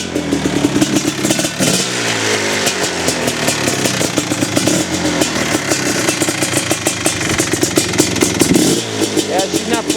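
A partly warmed trail bike engine runs close by just after the ignition is switched on, with a rough, uneven idle and clattery firing pulses throughout while a person talks over it.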